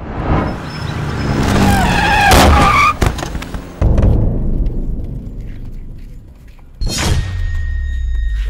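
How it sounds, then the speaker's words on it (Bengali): Motorbike crash sound effect: an engine roar and screeching skid build up, then heavy thumps and clatter of impact, followed by a second sharp burst of noise and rumbling after a lull. "আরে লোকটা তো বাইক অ্যাক্সিডেন্ট করছে"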